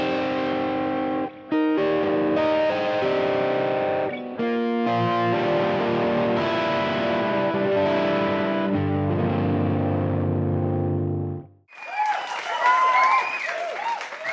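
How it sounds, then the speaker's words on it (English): Electric guitar chords played through a Fractal AX8 pitch shifter, which tracks the chords into thick, layered sustained tones. Several strummed chords ring loud and close, then cut out into a brief burst of applause-like noise at the end. "the cool thing about the pitch shifter is it tracks chords"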